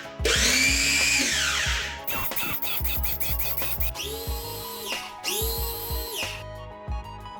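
A food processor mixing beef meatball dough whirs in repeated bursts, its motor pitch rising and falling as it starts and stops, with short pulsing runs between longer spins.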